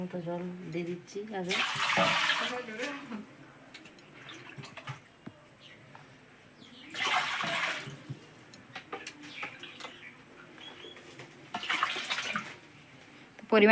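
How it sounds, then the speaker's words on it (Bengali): Water poured into a pot for steaming palm-leaf pitha: three separate splashing pours spaced several seconds apart, with quiet kitchen sounds and a faint voice between them. "মতো জল দেওয়া হয়ে গেল"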